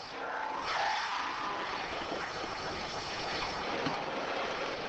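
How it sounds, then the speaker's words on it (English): A robot runs a nylon abrasive wheel over metal, leaving a matte finish with shallow grooves: a steady, broad grinding hiss holds at the same level throughout, with no voices. "The robot, using a nylon wheel, produces a matte finish with shallow grooves."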